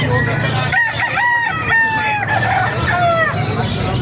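A White Kelso gamefowl rooster crows loudly and close at an outdoor poultry market, giving one long drawn-out cock-a-doodle-doo followed by a second, with market background noise under it.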